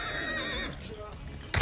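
Horse in the video game Hunt gives a loud, wavering neigh that trails off, followed by a sharp noise burst at the end.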